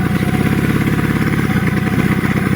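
Suzuki RC100 motorcycle engine running steadily, a loud, close, continuous rattling two-stroke drone with an even pulsing rhythm and no speech.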